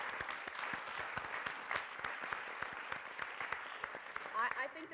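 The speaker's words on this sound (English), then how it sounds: "Please join me in a round of applause for them helping out today." An audience gives a round of applause during closing remarks at an energy event, steady clapping of moderate volume lasting several seconds with some voices underneath.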